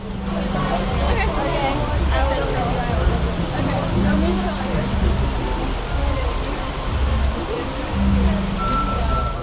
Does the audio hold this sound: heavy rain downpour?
yes